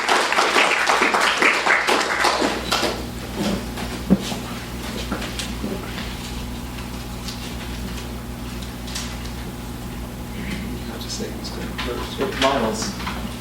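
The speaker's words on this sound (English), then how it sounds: "So please give a round of applause for all of our wonderful contributors" A reading audience applauds the anthology's contributors: a burst of clapping opens loud, then thins into scattered claps and shuffling under a low steady hum, with a faint voice speaking partway through.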